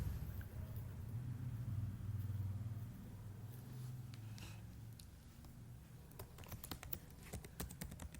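Typing on a computer keyboard while writing code: clicks that are faint at first, then a rapid, close burst of keystrokes in the last few seconds, over a low rumbling background.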